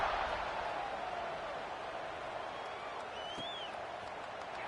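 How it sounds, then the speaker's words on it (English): Steady stadium crowd buzz fills an American football video game between plays, a dense continuous roar with a brief whistle-like tone near the end, heard alone without talk. "this crowd is buzzing after that last score"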